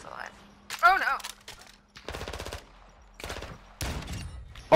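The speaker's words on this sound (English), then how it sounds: "Was that with the shotgun? That one was shotgun." Shotgun blasts and rapid gunfire in Call of Duty come in several separate loud bursts, with a person's excited voice cutting in between them.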